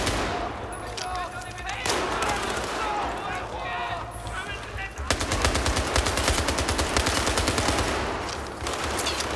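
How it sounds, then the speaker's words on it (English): Rapid automatic gunfire from above in the Battlefield 4 Shanghai campaign mission crackles almost continuously, with loud sustained bursts and a voice talking through it. "Oh, I'm being shot from above."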